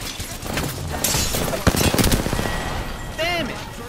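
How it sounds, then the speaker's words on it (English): Gunfire in the battle royale game Apex Legends: bursts of shots run through the middle of the clip over game sound effects, with a voice talking over part of it. "Opening fire."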